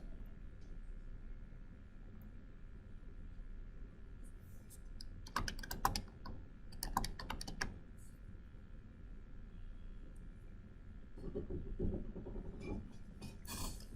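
Typing on a computer keyboard in a finance lecture room, short bursts of rapid key clicks separated by pauses over a low room hum, moderately close.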